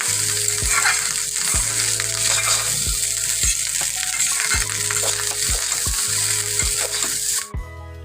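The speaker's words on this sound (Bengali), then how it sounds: "আমি যে ভাতগুলো দিয়ে একটু বাগার দিয়ে দিই।" Rice fries loudly with onion, green chilli, coriander and egg in a hot pan, giving a constant dense sizzle marked by regular low thumps. The sizzle cuts off abruptly near the end.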